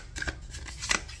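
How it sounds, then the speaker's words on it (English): A deck of tarot cards is shuffled close by during a card reading, with brief soft riffling and flicking bursts in an uneven rhythm and no talking. "All that shuffling and they're still coming out."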